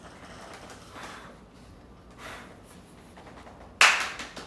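One sharp, loud handclap near the end of a birthday livestream, preceded by faint, quiet room sounds.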